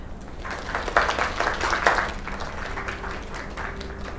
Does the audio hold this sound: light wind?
no